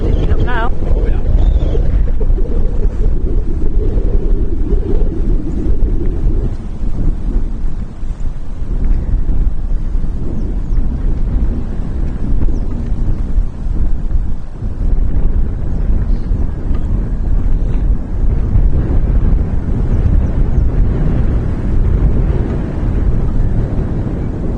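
Strong gusty wind buffets the microphone at Amsterdam Schiphol Airport, a loud, rough roar that surges and eases throughout without a break.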